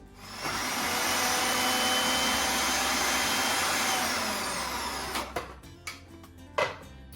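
Food processor blitzing about 200 grams of bacon for a beef doner kebab, a steady loud motor whine for several seconds, then winding down into a few clunks and knocks.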